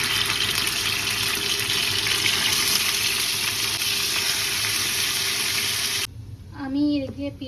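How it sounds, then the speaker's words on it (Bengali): Salted chicken pieces frying in hot oil give a steady, loud sizzle for about six seconds, then the sizzle cuts off abruptly and a voice speaks briefly. "তো এখন এগুলো আমি তেলে ফ্রাই করে নিব।"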